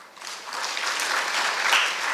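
An audience bursts into steady, sustained clapping at a Tamil spiritual and literary lecture, with the applause swelling slightly and holding at a dense, even level throughout with no talk on top.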